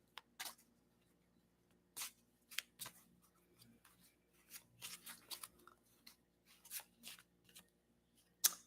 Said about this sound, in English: I'm going to also pick one of these cards for your twin flame journey, Jyoti.